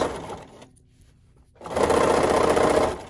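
A sewing machine stitches a cuddle binding with the needle stopped down, a steady mechanical whir that runs, pauses for about a second, then resumes louder and continues until the end.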